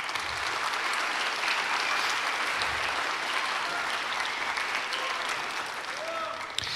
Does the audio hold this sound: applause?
yes